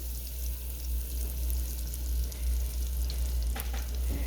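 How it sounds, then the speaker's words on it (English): Onion frying in melted butter in a pan, a close, continuous crackling sizzle with a few brighter pops and scrapes of stirring. "after we get our butter nice and melted, we are going to add the onion in first"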